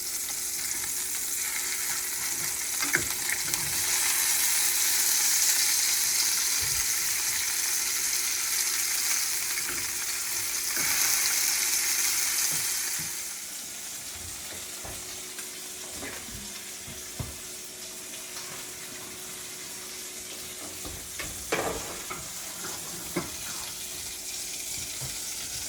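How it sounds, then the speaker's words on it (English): Sausage patties sizzle steadily in a hot pan while tomato gravy and biscuits cook alongside, a loud hiss that fades partway through, with a few utensil clicks and scrapes near the end. "fixing to flip these sausage patties"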